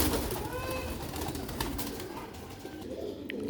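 Sialkoti pigeons coo softly and repeatedly against a busy, noisy background of other birds, with steady low cooing throughout.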